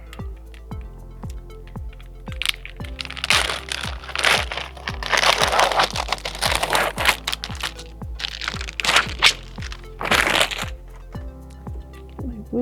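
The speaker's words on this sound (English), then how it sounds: "So I'm going to open my supplies." Packaged nursing supplies for a nasogastric tube insertion being torn and unwrapped, with crinkly crackling bursts of plastic and paper over a steady rhythmic ticking in the background, close and moderately loud.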